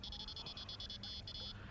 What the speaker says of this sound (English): Switch the alarm on.